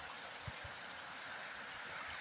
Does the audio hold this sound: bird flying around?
no